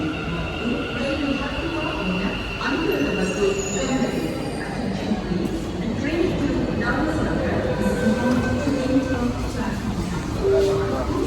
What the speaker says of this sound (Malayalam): നമുക്കുള്ള ട്രെയിൻ അങ്ങോട്ട് വരുന്നുണ്ട്, കാണുന്നുണ്ട്.